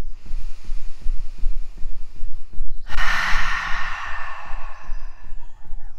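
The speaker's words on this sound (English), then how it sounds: "deep breaths through the nose." A person breathing deeply through the nose during a slow restorative yoga session for the legs and hips, with a long, airy inhale swelling midway over a soft, continuous low background.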